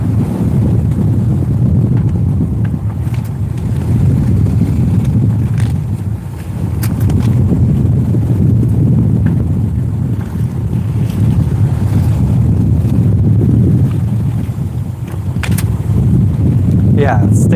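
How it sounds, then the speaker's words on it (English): Strong wind buffeting a sailboat in the open ocean between Vanuatu and the Solomon Islands, a loud continuous rushing roar with gusts and microphone buffeting, and people talking now and then beneath it. "How's the wind for you guys?"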